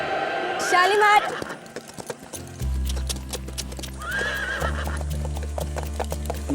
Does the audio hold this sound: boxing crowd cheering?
no